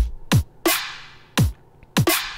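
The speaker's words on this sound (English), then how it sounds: "if I were to just showcase these drums, they are kind of long and they sound like this" Four long-decay electronic drum hits programmed in Bitwig, kick-like thumps with bright, sustained tails that ring out between strikes, loud and close with no voices.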